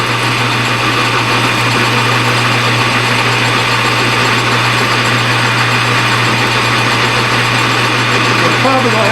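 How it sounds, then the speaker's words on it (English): A drill bores a half-inch hole through a racing bushing or spindle at high speed, a steady, loud whine with a constant hum underneath, grinding without pause. "I'm just going to drill this to 1/2 inch to get a hole through it."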